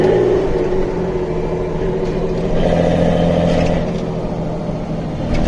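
A restored 1972 Series 2 Datsun 240Z with a five-speed gearbox holds a steady, close engine drone with mild swells in pitch and no talking over it.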